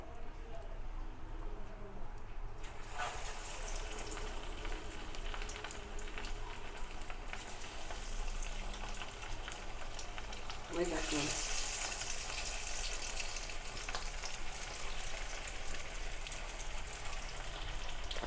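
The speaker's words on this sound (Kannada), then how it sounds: "ಇವಾಗ ಅದಕ್ಕೆ ಕಬಾಬ್ ಹಾಕ್ತಾಯಿದ್ದೀನಿ" Thick Mangalore-style kabab pieces frying in hot oil, a steady dense sizzle that swells louder as more pieces go in, under brief talking.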